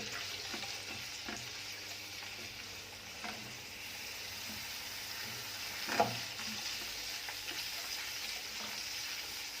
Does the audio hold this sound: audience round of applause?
no